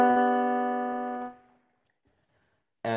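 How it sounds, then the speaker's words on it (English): A 2/3 suspension embellishing the bass in a music-theory example: a sustained tonal chord that fades out, a short silence, then another chord struck at the very end, with no talking. "There's also the 2/3 suspension"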